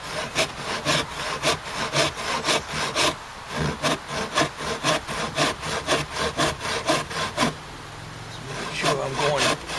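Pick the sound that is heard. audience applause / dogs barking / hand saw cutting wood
hand saw cutting wood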